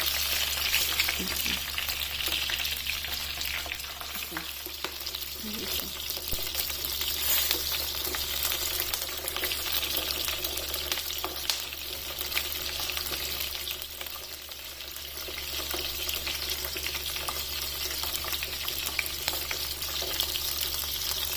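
Stuffed bell peppers frying in oil in a pan, a steady close crackling sizzle that runs throughout, with soft scrapes and knocks as the peppers are turned over.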